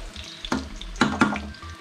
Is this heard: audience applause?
no